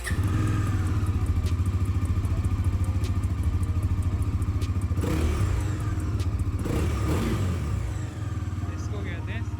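Bajaj Pulsar NS400Z motorcycle engine running after a service, a steady close, loud idle with a fast, even firing pulse and slight revving, with no speech over it.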